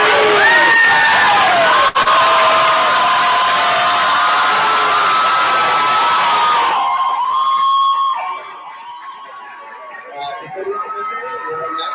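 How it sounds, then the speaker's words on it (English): A crowd at a student endorsement hearing hoots and cheers loudly and continuously, with shrill whoops over a roaring wall of noise that cuts off abruptly and fades to scattered murmurs. "please keep your hooting and cheering to as low as you can"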